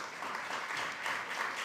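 Audience applause at a panel discussion on food, a brief steady patter of many hands clapping at moderate volume, heard on its own.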